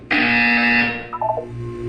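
A loud electronic buzzer in the video game Portal 2 blares for nearly a second, followed by a few short beeping tones, with no talking.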